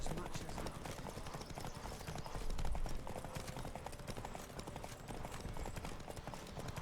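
In the Witcher 3 video game, a horse gallops during a race, its rapid, steady hoofbeats running continuously at moderate volume under a busy game soundscape, with speech present.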